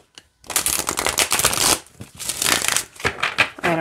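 Tarot oracle cards with stiff cardstock are shuffled by hand in several brisk, rustling riffles, loud and close, with short pauses between passes.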